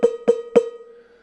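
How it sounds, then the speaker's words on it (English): Three quick strikes on a deep Latin Percussion cowbell sample played from a Roland SPD-30 pad, each a dry metallic clank with a short ringing tail, evenly spaced and clear. "Latin Percussion has a lower deep cowbell, which sounds like this."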